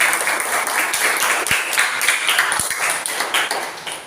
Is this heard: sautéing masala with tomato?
no